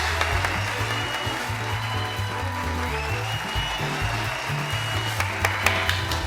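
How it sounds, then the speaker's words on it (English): An audience gives a dense, continuous round of applause for a cast member, with a low musical drone running steadily underneath the clapping throughout. "Give her a round of applause."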